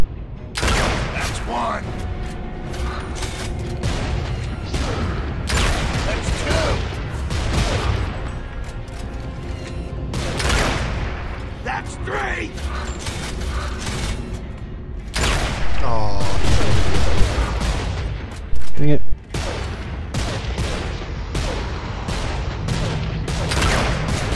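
Gunfire from the Gears of War 2 video game rattles in repeated loud bursts and booms throughout, with players talking and laughing over the shooting.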